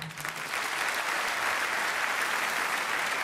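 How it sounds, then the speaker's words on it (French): Steady applause from an audience at a rugby awards ceremony, a dense, continuous clatter of many hands clapping at close range that holds evenly throughout, with no voices standing out. "Donc vous pouvez vous applaudir, les gars."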